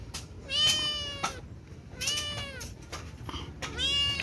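A cat meows repeatedly, three or four drawn-out, rising-and-falling cries close by, with a quiet background between them.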